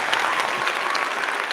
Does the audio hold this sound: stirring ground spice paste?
no